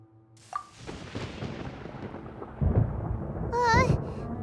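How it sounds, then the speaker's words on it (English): Thunder rumbles in the video game Genshin Impact, a long low rolling boom that swells into a heavier crack partway through, while a brief high voice-like sound rises near the end. "Paimon hears thunder!"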